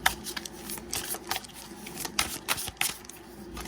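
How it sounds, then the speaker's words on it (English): Tarot cards are shuffled at close range: soft riffling and papery slaps in quick irregular bursts, fairly quiet, with no speech. "I didn't need to shuffle. I already had the cards out, but I just reshuffled again."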